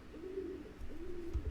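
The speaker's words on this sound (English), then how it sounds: "you can hear my pigeon" A pet pigeon coos twice in slow, rolling phrases, close by and moderately loud over a soft low background hum.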